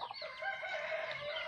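Chickens cluck and crow together at afternoon feeding time on a farm, a close, continuous flock chorus with no talk.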